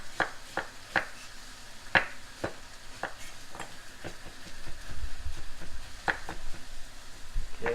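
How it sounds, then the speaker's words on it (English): Fennel chopped with a knife on a board, a series of crisp, irregularly spaced thuds and crunches close up, fairly quiet, with soft handling noise between cuts. "So we're just gonna chop this up just like,"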